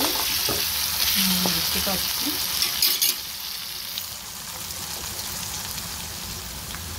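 Onion and tomatoes fry in oil for a prawn curry, a steady loud sizzle with stirring throughout, briefly joined by a voice early on.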